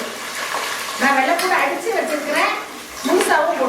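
Whole green chillies and white garlic go into hot oil for tomato thokku, giving a steady hiss and sizzle close by while someone talks over it.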